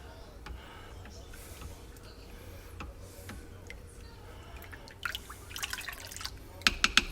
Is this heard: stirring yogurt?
yes